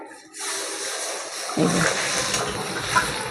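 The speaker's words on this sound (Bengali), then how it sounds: "জল দিয়ে দিচ্ছি।" Water pours into a raw banana kofta curry in a pan, a steady broadband splash that starts abruptly and runs continuously at close range with a brief sloshing swell near the end.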